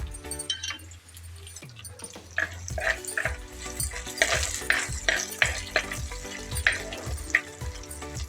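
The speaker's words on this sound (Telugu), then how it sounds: "ఇందులోనే కాస్త ఎండుమిరపకాయలు ఇలా తుంపి పెట్టుకుని ఇందులో వేసేసుకోవాలండి" Dried red chillies crackle and sizzle as they fry in hot tempering oil, with a spoon stirring and clinking against the pan in repeated sharp taps over the continuous close sizzle.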